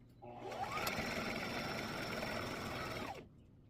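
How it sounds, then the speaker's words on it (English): A sewing machine top stitching a table runner, one continuous buzzing run that rises to speed, holds steady for about three seconds and then winds down, loud and close with no talking. "Let's take this over to the sewing machine and we're gonna do a top stitch."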